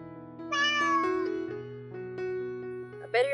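A cat meows over a steady tonal background, with one drawn-out call that rises and falls, then a shorter cry near the end.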